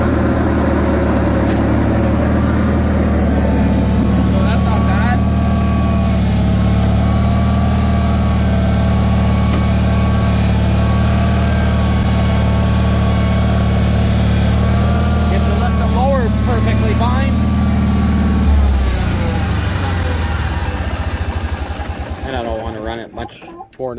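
A Bolens HT-23 garden tractor engine runs with its mower deck attached, a steady, fairly quiet drone that holds for most of the stretch, then drops in pitch and cuts off near the end.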